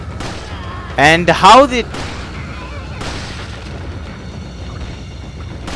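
Gunfire in Resident Evil 4 during the El Gigante fight, a few sharp loud shots clustered together early on, with someone speaking briefly and game ambience underneath.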